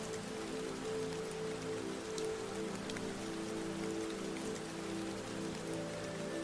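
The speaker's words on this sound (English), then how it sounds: "And let the quiet rain of Forks carry you gently to sleep." Quiet rain falls in Forks, Washington, a soft, even patter on surfaces holding steady throughout with no other sounds.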